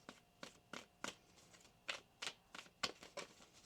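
Tarot cards are shuffled by hand in a series of about a dozen quick, soft riffling taps and flicks, irregularly spaced and faint, close up in a quiet room.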